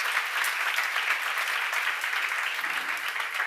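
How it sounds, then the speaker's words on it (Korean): An audience at a church Bible seminar claps hard in a steady, dense burst of applause that carries evenly to the end, with no voices over it. "박수 세게 쳐봐요."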